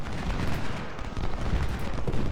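Volleys of musket and rifle fire in Ultimate General: Civil War, a dense continuous crackle of many shots blending into a rolling roar without pauses.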